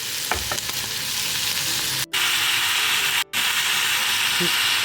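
Cooking oil sizzles steadily in a pan for beef stew with managu, a loud continuous frying hiss broken by two brief dropouts.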